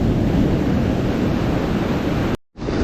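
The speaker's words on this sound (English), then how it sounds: "look at that wave breaking" Ocean surf breaking on a beach during fall striped bass fishing, a steady loud wash of waves and wind rush that cuts out briefly near the end, with no voices.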